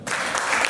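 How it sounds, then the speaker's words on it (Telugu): An audience at a gathering breaks into applause, a dense, steady wash of clapping that stays loud throughout the brief moment. "ఒకసారి గట్టిగా క్లాస్ కొట్టండి"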